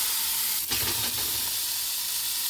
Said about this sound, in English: I'm pan frying mine, but you can cook yours however you like.